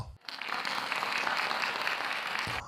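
Sustained applause from an audience, a dense even wash of many hands clapping for a few seconds, starting abruptly and cutting off cleanly at the end.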